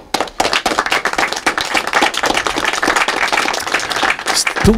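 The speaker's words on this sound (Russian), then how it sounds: "Студия аплодирует." A studio audience at a radio programme claps enthusiastically in dense, continuous applause, loud and close, sustained for several seconds before fading at the end.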